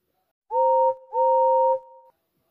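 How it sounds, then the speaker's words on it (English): A railway guard's whistle gives two loud, steady blasts, a short one followed by a longer one, close and alone against silence. "The guard blew his whistle"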